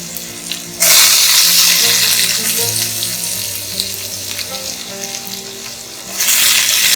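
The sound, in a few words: raw banana pieces frying and sautéing in oil in a kadai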